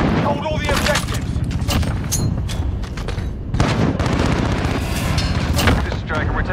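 Heavy gunfire and booming blasts in Call of Duty: Modern Warfare multiplayer, Kilo, a dense continuous barrage of loud shots and explosions with radio voices talking over it.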